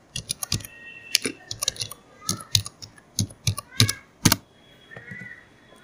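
Keys on a computer keyboard click in quick irregular bursts, close and crisp, with short pauses between clusters of strokes while a channel name is entered, no talking over it.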